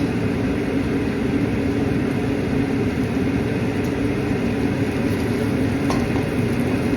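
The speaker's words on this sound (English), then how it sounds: "Let's get this fry going. I'm going to add my onions." Chopped onions frying in a hot pan as the base for a Maltese octopus stew, giving a steady, even sizzle and crackle that holds throughout at moderate loudness with no talk.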